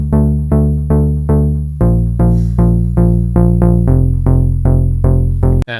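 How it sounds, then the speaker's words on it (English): Organ-like M1-style synth bass in FL Studio plays a steady repeating line of sustained, harmonically rich notes that shift pitch partway through, loud and upfront with no other sounds. "This is the main bass sound. It's kind of like an organ M1 bass."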